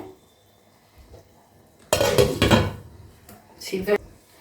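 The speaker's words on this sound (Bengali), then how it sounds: "একটু সময় ঢাকা দিয়ে দেবো সিদ্ধ হওয়ার জন্যে" A metal lid set down on a pot of jackfruit being boiled for a curry, one sharp clattering knock followed by a couple of lighter clinks.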